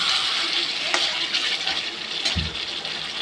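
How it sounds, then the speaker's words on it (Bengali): Hot water poured into a pan of cooked chicken kosha with potatoes, a steady close hiss and splash of liquid running continuously with a couple of brief louder splashes. "এবার গরম জল ঢেলে দেবো"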